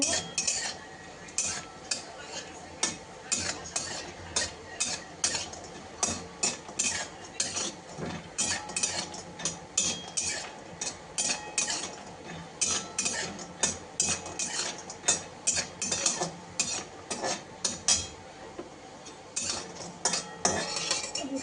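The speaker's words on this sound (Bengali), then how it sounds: "এই যে বড়িটা দিয়ে দিলাম, বড়িটা ভেজে নেব।" Lentil dumplings (bori) frying in hot oil in a pan, with a steady sizzle running throughout and frequent close, sharp clinks and scrapes of a metal utensil stirring against the pan; no one speaks.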